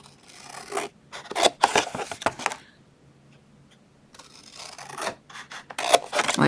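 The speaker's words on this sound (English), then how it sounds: "We're going to go ahead and cut up on these 2 score lines." Scissors cut along two score lines on a paper box template, giving close, quiet bursts of rasping snips separated by short pauses.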